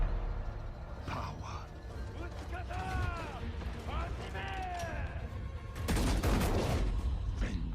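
Gunfire in an Assassin's Creed Shadows game trailer, a few sharp shots and a louder burst near the end, mixed into dense cinematic music and mechanical clatter.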